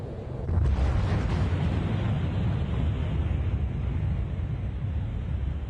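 Exploding star rendered as a deep, sustained rumbling roar that bursts in abruptly after a brief lead-in and then holds as a dense, noisy wash, loud and alone, slowly easing off.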